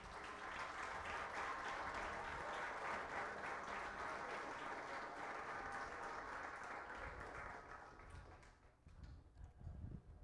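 A church congregation at a Sunday communion service applauds together in dense, steady clapping that thins out and fades near the end, heard at a distance.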